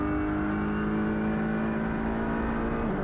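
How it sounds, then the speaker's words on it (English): Audi RS3 LMS touring race car accelerating hard down a long, slightly downhill straight at Motorland Aragon, a loud continuous onboard engine roar with steady high revs throughout. "Accelerating to 260 km per hour."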